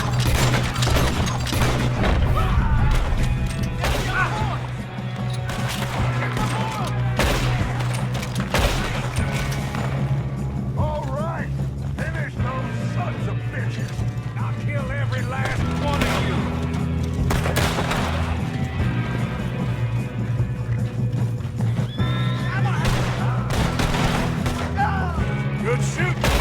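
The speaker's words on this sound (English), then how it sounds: "Good shooting, kid." Gunfire during a Red Dead Redemption 2 shootout: repeated loud gunshots and crashes scattered over a constant rumbling bed, with voices talking in between.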